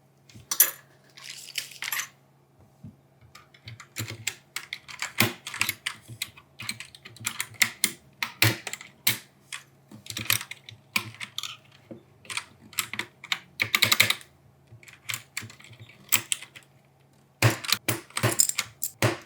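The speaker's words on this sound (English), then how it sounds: "let's use the switch puller and keycap puller I got from the other one to check this boy out" Switches and keycaps being pried off a cheap Temu gaming keyboard with a switch puller and keycap puller, giving scattered sharp plastic clicks and ticks in irregular bursts over a low steady hum, with no talking.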